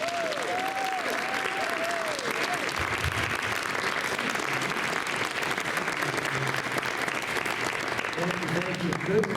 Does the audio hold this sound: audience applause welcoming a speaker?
yes